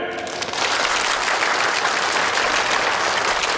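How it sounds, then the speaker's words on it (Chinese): A banquet crowd at a company's 20th-anniversary celebration breaks into loud, sustained applause that swells after a brief voice at the start. "掌声欢迎顾总"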